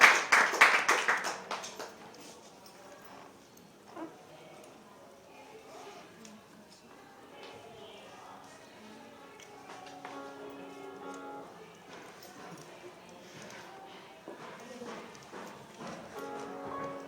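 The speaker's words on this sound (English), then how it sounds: "Give clap offering to God." A church congregation claps hands together as an offering during a worship service. A loud burst of clapping opens, then settles into sparser, ongoing clapping mixed with voices and other sounds of the service.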